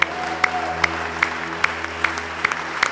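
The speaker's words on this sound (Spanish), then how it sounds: "Dele un aplauso más fuerte al Señor" A church congregation claps for the Lord in rhythmic unison, sharp evenly spaced beats over a sustained background of music and hum.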